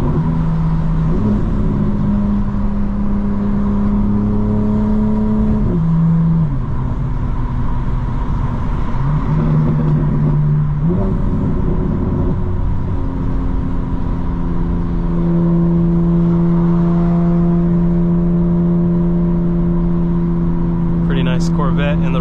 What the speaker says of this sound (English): Evening out my speed by shifting up and down without having to brake.